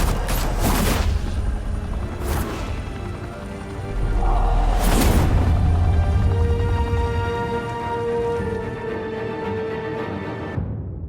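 Shots and booms ring out in a Batman video game firefight, several sharp loud bursts in the first half, then a sustained rumbling din with tonal game sounds before an abrupt cutoff.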